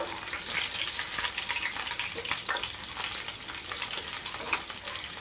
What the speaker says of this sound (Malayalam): കടുകിട്ട് നന്നായിട്ട് പൊട്ടിയതിന് ശേഷം അതിലേക്ക് കുറച്ച് വെളുത്തുള്ളി അതിലേക്ക് ഇടുക